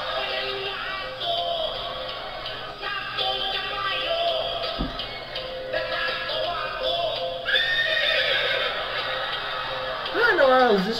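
A voice imitates a horse neighing, a wavering whinny near the end, with other voices and background chatter running underneath.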